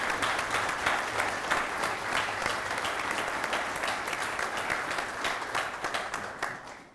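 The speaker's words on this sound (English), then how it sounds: "So first, this round of applause is a thank you to Professor Mascott." An audience at a university event with Justice Clarence Thomas breaks into a sustained round of applause. Dense, steady clapping fills the room for about seven seconds before thinning out at the end.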